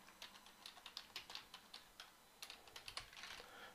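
Computer keyboard typing in quick, light bursts of clicks, close and fairly quiet, ending with a few firmer keystrokes as enter is pressed; no voices.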